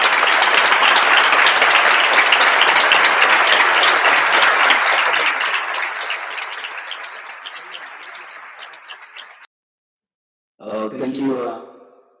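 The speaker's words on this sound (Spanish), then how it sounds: "Y aplaudiendo." An audience at an exhibition opening breaks into loud, dense applause that gradually thins and fades over several seconds, followed by a pause and then a brief burst of speech.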